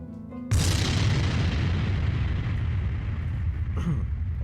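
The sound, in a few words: big explosion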